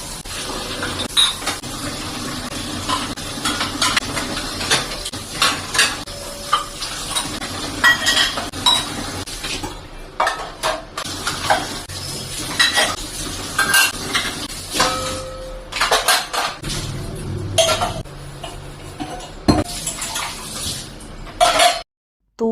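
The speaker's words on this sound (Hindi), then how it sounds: "अब बारी आती है सारे बर्तन वॉश करने की।" Dishes, pots and utensils are washed in a kitchen sink, with repeated clanks, scrapes and clatters of metal against metal over running water, continuing busily and up close before a brief pause at the end.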